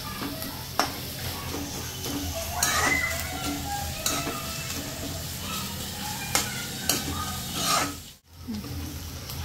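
Onion and green chillies softening in a pan, with a steady close sizzle and repeated scraping stirs from a spatula, a few sharper knocks against the pan, and a brief drop near the end.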